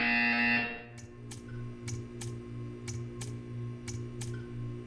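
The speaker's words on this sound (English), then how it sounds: "You will hear a buzzer." A buzzer in the Portal 2 video game sounds as a long steady tone that cuts off after about a second. Faint repeated ticks follow over a low hum.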